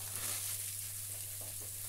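Onion and shallot frying in a generous knob of butter in a pan, a soft steady sizzle heard close up over a low hum, brief and without speech.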